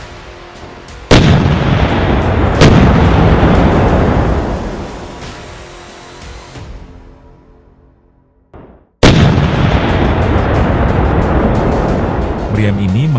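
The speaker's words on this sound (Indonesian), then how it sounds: "Tank ini dipersenjatai dengan meriam kaliber 105 mm bertekanan tinggi." Two heavy blasts of a Harimau tank's 105 mm high-pressure cannon: a sharp boom near the start that rolls off over several seconds, then a second loud report after a brief silence, with a steady rumble behind.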